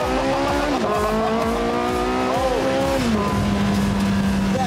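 A high-end plug-in hybrid sports car accelerating hard, engine note climbing and dropping through several paddle-shifted gear changes, loud and close, with a brief exclamation from a person inside.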